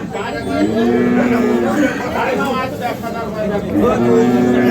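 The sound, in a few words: bull mooing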